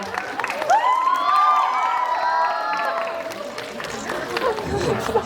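A cinema crowd at CGV Yeongdeungpo cheers and claps for a film's director and actors, with high excited shrieks and chatter dominating over lighter, scattered applause.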